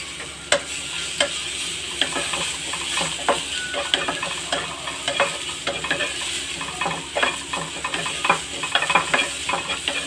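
Grated garlic and ginger sizzle in a pan while a utensil stirs and scrapes, giving repeated clicks and taps over a constant frying hiss, close and clear.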